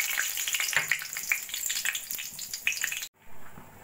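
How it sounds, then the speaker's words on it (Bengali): Cumin, bay leaf, cardamom and cinnamon are dropped into oil left from frying cauliflower koftas. A close, crackling splutter with repeated pops cuts off briefly near the end, then resumes faintly. "ওই তেলের মধ্যে দিয়ে দেবো জিরে, তেজপাতা, এলাচ আর দারচিনি ফোড়ন।"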